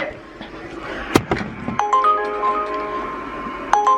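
A phone rings with a bright electronic tone repeating in short bursts, preceded by a thump like a door, recorded indoors amid other noise.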